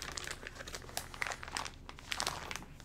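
Plastic packaging crinkles and crackles in quick irregular bursts as a Carson Supply kit is opened, close and fairly quiet, with no talking.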